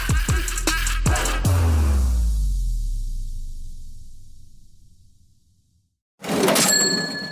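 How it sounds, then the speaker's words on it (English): A cash register payment notification rings out with a quick rattle and bright chime, then the tone fades to silence before a short sparkling ding follows. "It's the sound of money hitting your Venmo account"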